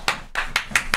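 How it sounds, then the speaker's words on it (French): A handful of sharp, close hand claps, about five in quick uneven succession, from people in an informal live-stream setting; the first is a lone clap and the rest follow in a loose rhythm. "Ah bah non, un applaudissement."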